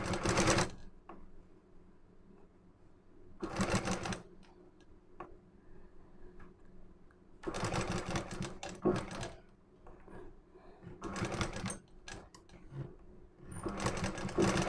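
A sewing machine stitches the lining of a princess-cut blouse in several short, loud runs with quiet pauses between them. The needle's rapid ticking rhythm is close and clear, with no talk.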